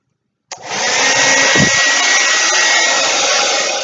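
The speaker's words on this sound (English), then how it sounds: "I start blow drying on a medium heat setting, but I guess the power of the blow dryer is on high." A hair blow dryer on high power and medium heat switches on abruptly and roars steadily up close, a loud continuous whoosh with a brief dip in tone partway through.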